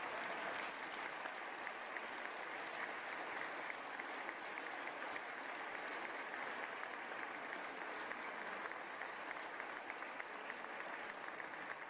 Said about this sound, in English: could you give these people an incredible round of applause?